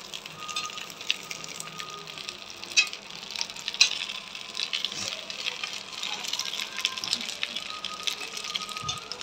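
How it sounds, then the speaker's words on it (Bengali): Hilsa fish wrapped in banana leaves fry in hot oil for a Bengali paturi dish, giving a steady, moderately quiet sizzle with a few soft clinks and stirring bumps, and no talking. "তেল গরম হচ্ছে, তেল মধ্যে দিয়ে দেওয়া হলো যেগুলো মাছগুলো কলা পাতায় মোড়ানো হয়েছিল"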